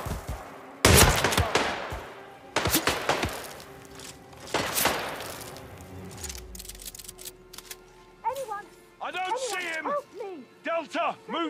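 Gunfire in the VR video game Hitman 3 on the Dartmoor level, loud sharp shots in short bursts, followed by shouting voices near the end.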